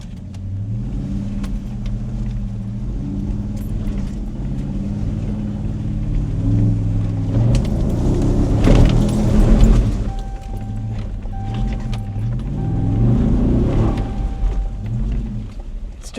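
An off-road truck locked in first gear claws up a steep dirt hill, its engine droning and surging in repeated revs as the wheels spin, loud and close throughout.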